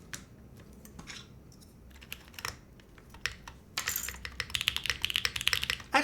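Typing on a custom mechanical keyboard fitted with PBT ABS blend keycaps gives quiet scattered clicks at first, then a dense, fast run of close, crisp keystrokes.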